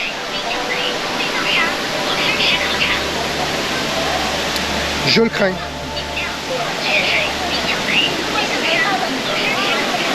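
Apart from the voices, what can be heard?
waterfall, passing behind it on slippery steps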